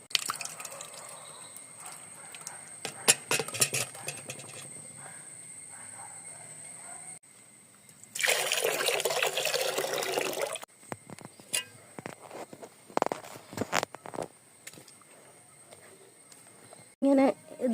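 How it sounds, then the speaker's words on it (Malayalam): Curd thinned with water poured at the base of a curry leaf plant, heard as a loud, splashy pour lasting a few seconds midway, set between scattered drips, clinks and handling knocks. "ഈ തൈര് കുറച്ച് വെള്ളത്തിൽ കലക്കിയിട്ട് നമുക്ക് കറിവേപ്പിൻ്റെ ചുവട്ടിൽ ഒഴിച്ചു കൊടുക്കാം."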